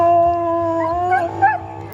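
Sled dogs howl in a sustained, wavering chorus with rising pitch bends near the end, close and fairly loud, with a steady low hum underneath.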